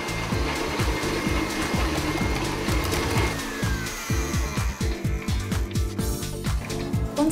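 Electric mixer beating butter and sugar for lemon drizzle cake batter, a steady motor whir with rhythmic knocking pulses as the beaters work the mixture, close and continuous throughout.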